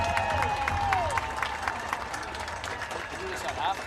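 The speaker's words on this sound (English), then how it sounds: "let's give another round of applause for the Wildcat Band seniors and their families" Crowd applause at a high school football game at halftime, a sustained burst of clapping and light cheering from the stands, with an announcer's voice over it.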